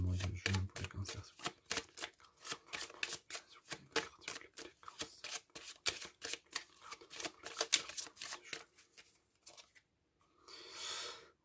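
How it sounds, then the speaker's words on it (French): Tarot cards being shuffled by hand, a long run of rapid riffling flutters and soft slaps close by, ending with a brief burst of rustling. "est-ce que je peux avoir une carte s'il vous plaît pour les cancers pour le mois de juin?"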